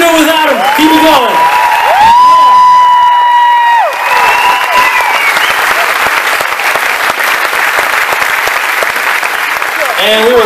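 Concert audience at a show under the Big Top Chautauqua tent in Bayfield, Wisconsin, breaking into loud sustained applause and cheering, with a voice speaking over the clapping at the start.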